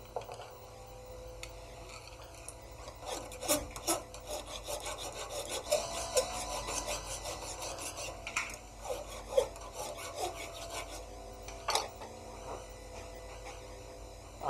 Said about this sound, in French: Nous allons mettre un petit coup de lime